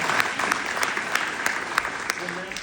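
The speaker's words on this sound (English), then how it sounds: "let's give John a round of applause" A crowd at a Memorial Day ceremony in Hebron, Nebraska gives John steady, dense applause, a continuous wash of many hands clapping with brief sharper claps standing out throughout.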